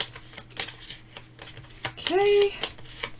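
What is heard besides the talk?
playing cards being shuffled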